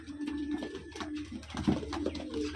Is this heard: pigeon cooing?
yes